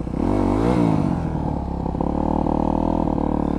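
A motorcycle engine revs hard as the rear wheel spins during a wheelie attempt, a loud, steady, close roar with rising and falling pitch and a faint rattle.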